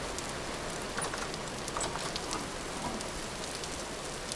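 Rain in the survival video game Vintage Story falls as a steady, dense hiss with faint scattered droplet ticks, continuous and even throughout with no voices over it.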